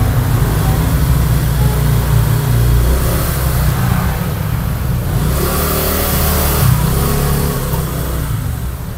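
Motorbikes and cars passing a roadside shop, a continuous loud engine rumble with rising and falling revs as vehicles go by close, some talk mixed underneath.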